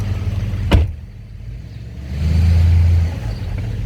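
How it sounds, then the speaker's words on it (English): A 2006 Chevrolet Silverado 2500 with the LBZ Duramax diesel idles and then pulls away slowly, a sharp click near the start followed by a steady low engine drone that swells briefly as the truck moves, with no talking. "I'm gonna try to move the truck a little bit and see if we can show you at least that the transmission engages."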